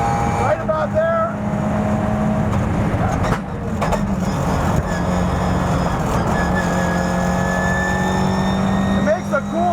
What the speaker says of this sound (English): It makes a cool sound. It's got this really beautiful whine.